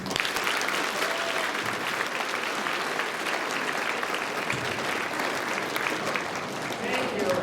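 A school assembly audience welcomes a visiting author with sustained, dense applause that holds at an even level throughout, with some voices mixed into the crowd noise.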